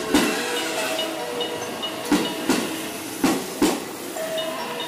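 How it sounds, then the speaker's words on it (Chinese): A JR Central local train pulls into a station on the Tokaido line near Maibara on a rainy day, with a low rumble and several sharp, evenly spaced clanks of wheels over rail joints. "JR 东海的电车来了。"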